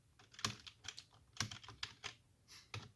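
Keys on a computer keyboard are pressed during an anime fighting simulator game, with a few distinct, faint taps and softer clicks between them and no talking.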